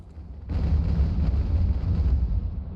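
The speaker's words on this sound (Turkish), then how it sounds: "Aa bir gemi patladı." A sailing warship explodes in a naval battle in the video game Ultimate Admiral: Age of Sail: a sudden deep explosion bursts in and rolls on as a sustained, heavy rumble, loud and close, with no talking.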